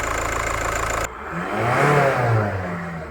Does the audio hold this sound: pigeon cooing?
no